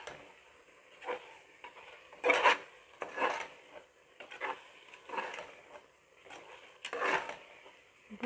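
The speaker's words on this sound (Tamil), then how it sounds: "நூற்றம்பது கிராம் தயிர் சேர்த்து இதோடையே வதக்கி விட்டுக்கலாம்" Yogurt being sautéed in a pot for mutton biryani, heard as a run of intermittent scraping stirs and soft clinks of a utensil against the pot, moderately close, with quiet gaps between strokes and no talk.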